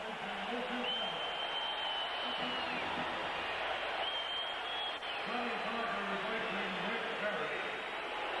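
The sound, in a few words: arena crowd applause for Kareem Abdul-Jabbar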